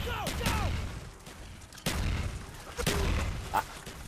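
Gunfire from the game Call of Duty: Black Ops cracks out in a few sharp, separate bursts at moderate distance, with quieter stretches between the shots.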